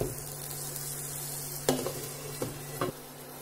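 Makhani paneer gravy simmers in a pan with a soft steady bubbling sizzle and a low hum, broken by three sharp clinks of a lid or spoon, with no talking.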